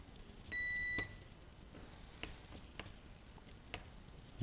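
A multimeter gives a single steady continuity beep lasting about half a second when its probe touches an ESC pad on a circuit board, followed by a few faint clicks of the probes.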